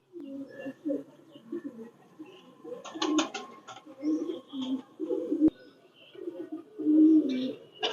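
Ferozpuri pigeons coo in low, throaty murmurs, over and over, with occasional rustling and clatter nearby.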